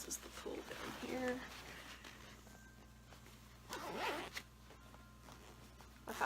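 The zipper on a doll body box pillow is pulled in a few short rasping bursts, quiet and close, with a person talking softly in between.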